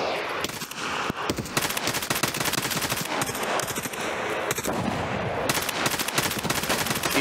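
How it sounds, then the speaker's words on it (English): Rapid bursts of automatic gunfire in the video game Escape from Tarkov crackle close and loud, shots overlapping in dense volleys with only brief pauses between strings. "I heard gunshots"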